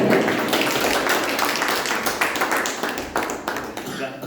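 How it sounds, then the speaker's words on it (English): An audience applauds at a Toastmasters club meeting, a dense, steady burst of many hands clapping that carries on for several seconds before slowly thinning out. "We can clap."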